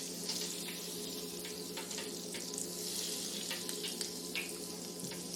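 Fish frying in a pan of oil at a home fish fry, a steady close crackling sizzle with small pops throughout, no talking.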